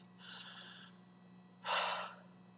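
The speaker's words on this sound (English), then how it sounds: "Take a deep breath." A slow, deep inhale followed by a louder, breathy exhale, close to the microphone in a quiet room with a faint steady hum behind it.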